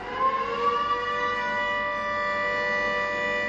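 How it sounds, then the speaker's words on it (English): An air raid siren in Darwin, Australia wails with a steady, sustained harmonic tone, loud and constant, with no talking, at a 2014 anniversary commemoration of the 1942 bombing. "the air raid siren sounded"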